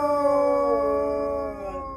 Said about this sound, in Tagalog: ay sabay-sabay itong umalulong ng sunod-sunod